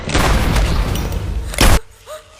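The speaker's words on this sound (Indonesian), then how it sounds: "Pindan pun meminta Sanjana agar menembak target yang akan segera keluar dari dalam lift" A film scene with a heavy booming shot fired at a target stepping out of an elevator: a loud rumbling blast, then one sharp burst near the end, followed by a fading tail.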